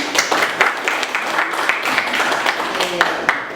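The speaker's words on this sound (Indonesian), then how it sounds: "Tepuk tangan yang meriah untuk 3 kelompok yang sudah mempresentasikan hasil diskusinya." Students in an accounting class clap for groups that have just presented, a lively burst of close hand claps with uneven accents, with a few voices mixed in.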